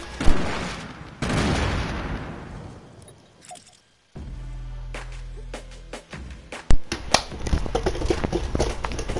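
Video game gunfire in a battle royale match, with bursts of sharp shots and rapid automatic fire, some loud and close and some more distant, broken by a pause and a steady hum.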